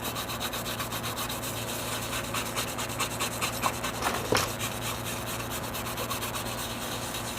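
A phone circuit board is scrubbed with a brush and cleaning liquid while a replacement LCD is being fitted, giving a steady close scratchy rubbing that continues through the clip, with a slightly louder stroke near the middle.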